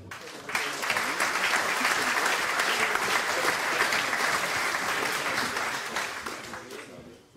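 A crowd at a sports ranking ceremony in Schwerin bursts into applause, with thick continuous clapping that swells quickly, holds for several seconds, then fades out.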